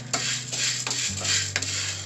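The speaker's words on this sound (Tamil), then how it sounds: "அந்த ஸ்டேஜ் வர வரைக்கும் சிம்மில் வச்சு பொறுமையாக வறுத்துக்கோங்க" Green cardamom pods are dry-roasted in a pan over low heat, with repeated stirring scrapes and rattles and a faint sizzle alongside a steady low hum.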